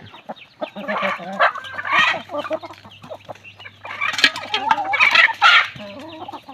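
Chickens cluck busily and a rooster crows loudly nearby, a dense, close barnyard chorus with a low hum running underneath.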